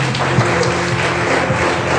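Church congregation clapping in praise during a Portuguese-language service, a thick, continuous roar of hands over a steady low musical drone, loud and sustained throughout.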